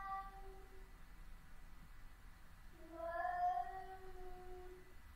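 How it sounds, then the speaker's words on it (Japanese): A cat in a video game meows in long, drawn-out wails over a steady low background hum, one louder cry rising midway, somewhat distant and plaintive. "最高な猫の声だね"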